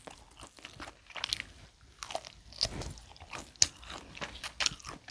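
Close-up biting and chewing of a tomahawk steak eaten off the bone, with wet crunches, tearing and smacking mouth sounds in irregular bursts, no talking.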